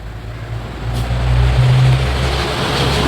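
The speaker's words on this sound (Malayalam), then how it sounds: "റോഡിൽ വണ്ടി പോകുന്ന എരപ്പും ഇതിൻ്റെ ഇടയിലുണ്ട് കേട്ടോ" Low rumble of vehicles passing on a nearby road, a steady drone that swells toward the middle as a heavier vehicle goes by, then eases slightly, with no voices.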